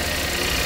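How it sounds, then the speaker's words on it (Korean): A Kia The New K3 1.6 GDI sedan's engine idles with its hood open, a steady, even hum with a faint belt whir, heard close up with no talking. "엔진 소리가 너무 좋고 여기 벨트 잘 돌아가고 있고"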